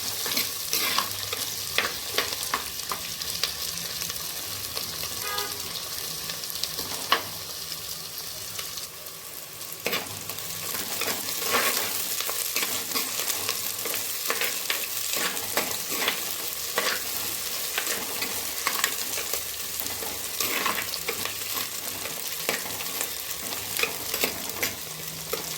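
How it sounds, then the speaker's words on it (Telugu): Onions frying and being stirred in a pan for crab curry, with a steady loud sizzle broken by repeated scraping stirs throughout, no voices. "ఉల్లిగడ్డ అయితే మగ్గుతుంది చూడండి. ఇంకా కొంచెం కావాలి, గోల్డెన్ బ్రౌన్ లాగా వచ్చిన తర్వాత తీసేస్తాను"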